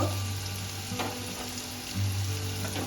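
Long-cut potato pieces with a little turmeric frying in oil in a pan, a steady close sizzle that stays constant and fairly loud throughout, with a few faint stirring touches and no voices.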